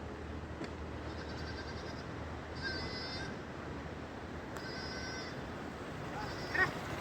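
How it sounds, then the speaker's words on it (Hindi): A sheep caught in thorny bushes on a hill path in Uttarakhand bleats four times in quavering cries, moderately close, over faint outdoor background noise. "कांटेदार झाड़ियों में फंस गई है ये भेड़ी, तो ये इसको छुड़ा रहे हैं।"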